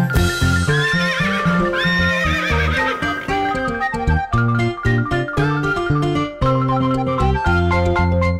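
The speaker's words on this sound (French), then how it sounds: "Dans sa ferme il y a des chevaux" Horse neighs and whinnies woven into a French-language Old MacDonald farm song for children, sounding over a steady, loud backing of bright music with no spoken voices.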